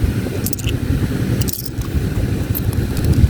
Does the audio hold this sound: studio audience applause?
no